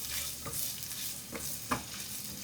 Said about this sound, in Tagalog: Maggisa tayo ng sibuyas.